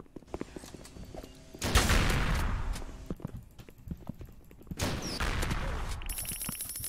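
Gunfire in the Roblox game Mad City comes in two loud broadband bursts of rapid shots, each lasting about a second and a half, separated by quieter game noise.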